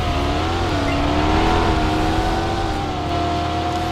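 An old Century X car in the Roblox Drive World video game produces a loud, steady engine drone with slight rises and dips in pitch as it speeds along, with no pauses.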